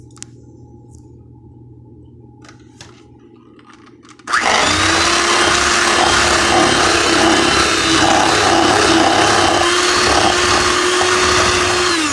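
An electric mixer creams butter in a bowl for vanilla buttercream frosting, switching on abruptly after a quiet start and then whirring loudly and steadily to the end.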